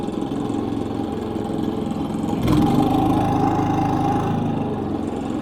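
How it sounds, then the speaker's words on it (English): A Predator 3500 inverter generator runs steadily near the listener, its small engine rising in pitch and revving up midway as it settles into a higher, even drone, with no talking. "for the remote start we want to turn the generator over on run"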